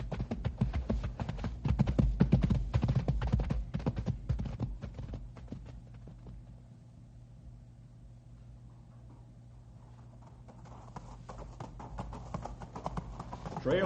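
Horses' hooves clip-clop on a loose-rock trail in a rapid, busy patter that thins out and slows midway, then picks up again, with a low engine-like drone underneath.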